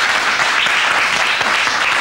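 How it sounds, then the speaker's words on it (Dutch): A studio audience on the Dutch TV quiz show Get the Picture breaks into sustained, even applause, loud and continuous for two seconds with no pauses. "En een applaus."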